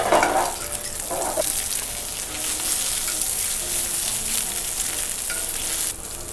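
Cardoncello mushrooms fry in a pan with a loud, steady close sizzle throughout, a couple of brief stirring scrapes near the start, and no talking.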